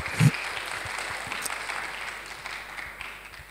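Church congregation applause fills the room, a dense, continuous wash of clapping that starts with a sharp burst and slowly fades over a few seconds.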